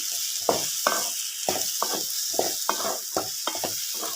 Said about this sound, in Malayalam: കുറച്ച് നേരം ഒന്ന് ഇളക്കി കൊടുക്കണം